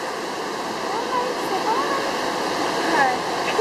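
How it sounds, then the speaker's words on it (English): Steady rushing wash of ocean waves breaking nearby in San Diego, continuous throughout with faint voices and brief whistling tones over it. "It's not raining. It's just the waves are..."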